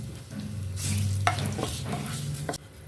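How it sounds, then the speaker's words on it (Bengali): Bay leaves and whole garam masala spices hitting hot oil, a sudden crackling sizzle with spatula scrapes and stirring clatter over a couple of seconds, close and fairly loud. "তেলটা গরম হয়ে গেছে, আমি এতে দুটো তেজপাতা ফোড়নে দিলাম আর গোটা গরম মশলা ফোড়নে দিলাম।"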